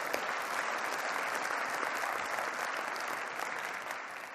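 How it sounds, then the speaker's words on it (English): Keynote audience applauding a presenter who is sitting back down, steady dense clapping throughout that eases off slightly toward the end. "Give him a round of applause."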